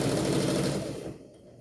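A sewing machine stitching bias tape runs in a rapid, dense mechanical rattle close by, then winds down and stops in under two seconds.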